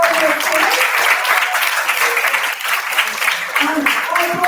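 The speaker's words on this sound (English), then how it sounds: "let us students put your hands together" Students in a school quiz championship audience clap together, a loud continuous round of applause with scattered voices mixed in.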